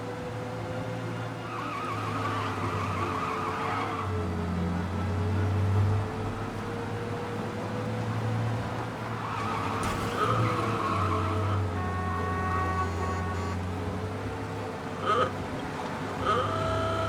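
A car driving fast in Mafia Definitive Edition, its engine droning steadily throughout with tyre squeals and skids cutting in now and then, over a busy game-world soundscape.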